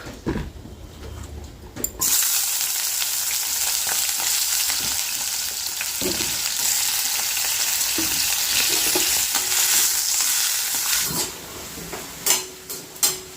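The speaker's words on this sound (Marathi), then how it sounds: "बटाटा आहे ना थोडासा तुपामध्ये परतू देते" Potato pieces fry in ghee in a pan with a loud, steady sizzle that starts abruptly, and a few utensil scrapes and clinks sound near the end.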